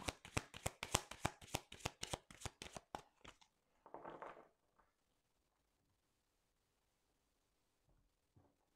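Cards being shuffled before a card reading, heard as a quick run of about a dozen crisp riffles in the first three seconds, then one softer burst of shuffling, and then near silence.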